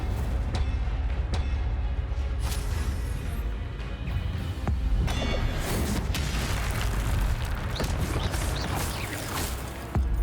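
Fire spell cast in Hogwarts Legacy, a dense roaring burst of flame and low booming rumble that stays loud and continuous throughout, with sharp crackles and pops scattered across it.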